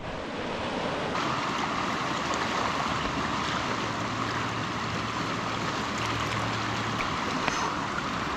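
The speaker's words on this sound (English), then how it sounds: "But that's the stream." A clear snowmelt mountain stream flows in a steady, full rush of water, close and loud, with a faint low hum entering partway through and no voices.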